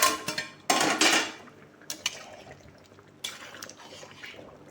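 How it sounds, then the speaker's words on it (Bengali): A metal lid comes off a pot of simmering chicken and potato curry, giving a few brief clatters and a louder scrape of metal, then quieter clinks and a soft bubbling of liquid. "ঢাকনা সরিয়ে একবার দেখে নিচ্ছি"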